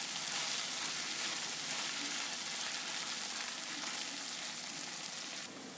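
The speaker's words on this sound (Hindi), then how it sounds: "अब थोड़ा सा घी डालेंगे और इसको थोड़ा सा मिक्स करके फ्राई कर लेंगे।" Okra and onion fry in ghee with a steady, dense sizzle that holds evenly throughout and fades slightly at the very end, close and fairly loud with no voices.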